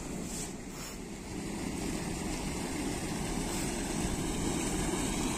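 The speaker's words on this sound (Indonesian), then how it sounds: "Air terjun kecil" Steady rushing water of a small waterfall on the slopes of Mount Anjasmoro, a continuous broad hiss with some wind buffeting, loud and unbroken throughout.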